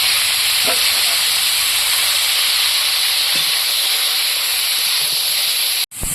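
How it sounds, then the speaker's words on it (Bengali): Broccoli frying in hot oil with only salt, a loud continuous hiss of sizzling close by, steady throughout and ending with a brief sharp cutoff, with no talk. "ব্রোকলি তো আমি দুবারে ভেজে নেব একবারে দিলে ভালো ভাজা হবে"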